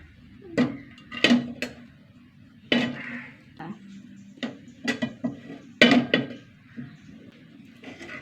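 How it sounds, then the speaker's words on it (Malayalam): Cooked rice is scooped from one pot into another with a metal ladle, producing a series of hard scrapes and clanks against the pots separated by short pauses. "നമുക്ക് ചോറൊരു വേറെ പാത്രത്തിലാക്കട്ടെ"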